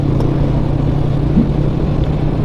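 Motorcycle engine idling low while riding with the clutch pulled in and throttle released, a steady close rumbling drone with even low pulsing and no revving.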